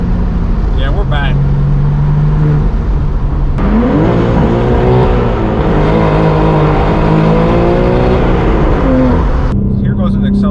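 A BMW M4 G82 manual fitted with a loud titanium exhaust accelerates hard, its engine note climbing steadily through several gears, heard from inside the car with the windows up, while voices chatter at the start and end.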